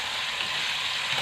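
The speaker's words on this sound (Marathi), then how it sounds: "आता ही सुद्धा बॅच मी अशाच पद्धतीने तळून घेणार आहे" Paneer cubes frying in hot oil, a steady dense sizzle that holds loud and unbroken from start to finish with no voices.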